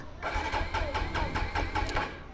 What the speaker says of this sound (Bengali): সো বাইকটা আমি স্টার্ট দিয়ে দেখি স্টার্ট হয় কি না